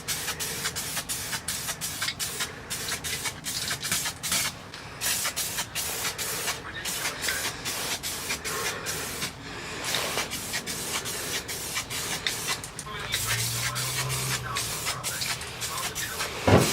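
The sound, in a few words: aerosol primer being sprayed onto car chassis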